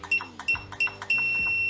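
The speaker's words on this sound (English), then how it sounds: "You heard a few beeps before we have the long one." An FMS FCX24M 1/24 RC crawler transmitter gives four short electronic beeps at a steady pace, then one long continuous beep that holds to the end.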